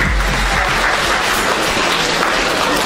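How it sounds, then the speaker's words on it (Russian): A concert audience in a cozy hall in the village of Krasnoye breaks into loud, sustained applause to welcome a philharmonic orchestra and its host, dense clapping filling the room without pause. "бурными аплодисментами"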